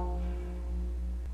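Two guqin strings plucked together slightly out of tune, producing a sustained low tone with slow, wobbly beating pulses, quiet and alone.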